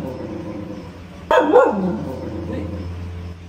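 Puppy being sold by an old man at a village market, giving one sharp, loud close bark midway followed by a short whimpering tail, with low background murmur.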